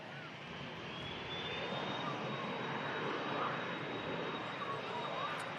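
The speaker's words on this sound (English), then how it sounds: "Here we go, Airbus A380. Biggest plane you're going to see today." An Airbus A380 passes with a broad, steady roar from its four jet engines, holding at constant loudness throughout with a faint high whine riding on top, heard outdoors at a plane-spotting spot.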